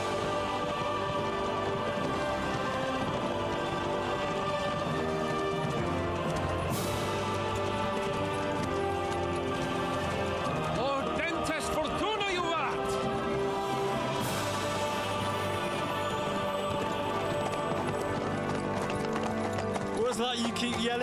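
Horses' hooves clip-clop in Kingdom Come: Deliverance 2 amid game music and ambience, with people talking over the steady rhythmic steps.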